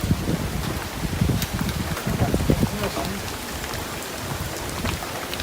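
Rain falls heavily during a thunderstorm in a Bangladeshi village, a constant close hiss with low rumbling swells and scattered sharp spatters, continuing steadily throughout.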